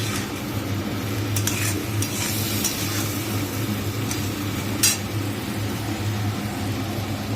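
Fish stirred and sautéed in a pan on a gas stove, a steady low sizzle with scraping spoon strokes and occasional bright clinks of utensil on metal, continuous and close.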